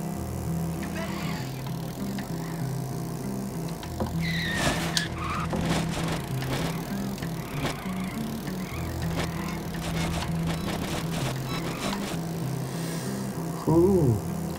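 Go-kart racing in the video game Bully, with a steady engine drone, bursts of tire skidding and squealing scattered across the race, under ongoing game music and occasional talk.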